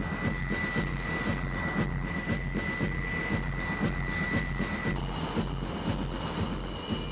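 A Fairchild A-10 Thunderbolt II combat jet is heard as a loud, steady engine roar with a sustained high whine, continuous throughout with no voices.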